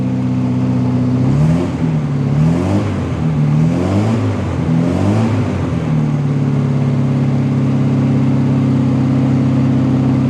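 A Westfield XI sports car engine runs steadily, its pitch climbing and falling in four quick revs before settling back to a smooth, loud idle drone.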